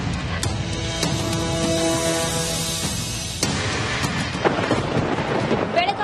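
Heavy monsoon rain pours steadily in coastal Karnataka, with deep rumbles of thunder rolling underneath; the downpour stays loud and continuous throughout, with a sharp crack-like burst partway through and no voices.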